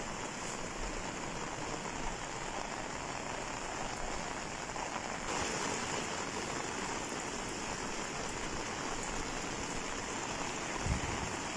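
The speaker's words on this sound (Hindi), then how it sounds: "ये बारिश में अब हर तरफ पानी जो है वो उसकी रफ़्तार तेज़ है" Rainwater rushes and splashes steadily during a heavy mountain rainstorm, a dense continuous hiss of fast-flowing water and falling rain, loud and close throughout.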